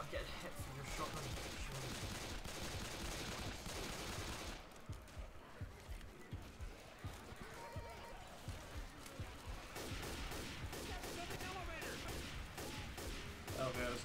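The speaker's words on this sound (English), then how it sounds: "I'm getting hit from your shotgun." Shotgun fire in a Left 4 Dead co-op game, with dense bursts of blasts and rapid gunfire packed together, pausing briefly midway before resuming, set against continuous game noise.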